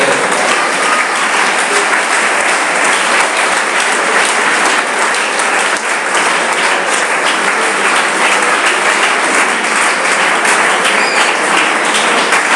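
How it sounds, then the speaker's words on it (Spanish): A church congregation claps together in sustained, dense applause that stays loud and even for about twelve seconds, with no voices standing out. "Un aplauso para el solo Dios."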